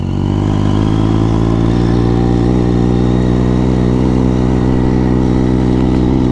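A Triumph Daytona 675R superbike engine runs loud and close with a steady, throaty drone while it rides off-road, holding a constant pitch without sharp revs.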